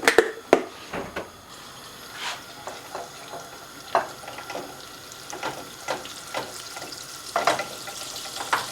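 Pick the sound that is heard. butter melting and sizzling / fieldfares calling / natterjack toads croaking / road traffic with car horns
butter melting and sizzling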